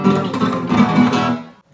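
Flamenco rasgueado strumming on a guitar, from an arrangement of Malagueña, a loud rapid flurry of rolling strums with dense ringing chords that fades out near the end.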